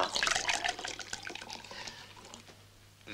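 Warm water poured from a vessel in an old-fashioned room, a soft splashing trickle that starts fuller and gradually thins out, fairly quiet and close.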